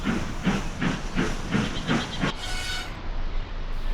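A steam locomotive chuffs in a rapid, regular rhythm of hissing puffs, loud and close, ending in a sustained hiss of escaping steam.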